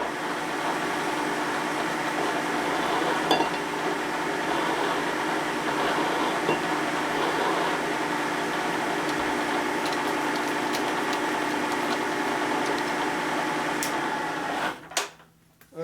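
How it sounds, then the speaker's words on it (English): A heavy-duty drill press runs at 100 RPM with a steady, close mechanical hum and whine that barely changes, then winds down abruptly near the end. "This is the heavy duty drill press. 100 RPM will be good."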